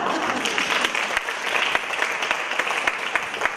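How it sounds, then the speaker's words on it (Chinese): Warm, full applause from a theatre audience at a Henan opera event, dense and continuous with a few sharper individual claps standing out. "掌声鼓励。"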